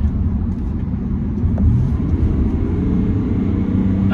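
A Chevrolet truck with the 3.0L Duramax diesel accelerates at full throttle on a highway, a steady, loud low engine drone and road rumble heard from inside the cab, with no talking.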